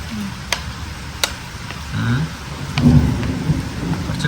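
Steady rain falls in the background, with a few sharp clicks and low rumbles over the hiss and faint voices nearby.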